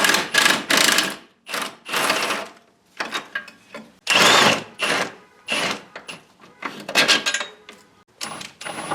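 K-member bolts being removed during an LS engine swap: loud, close bursts of rattling, ratcheting tool noise come in repeated stop-start runs of a second or so, separated by short gaps.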